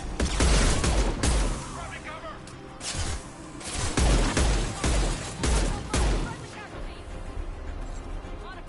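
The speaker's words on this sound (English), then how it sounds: "Firing concussive shots!" Heavy concussive blasts fired in Mass Effect 2 land as a series of loud booming shots with crashing impacts, spaced irregularly amid combat noise and shouted voices.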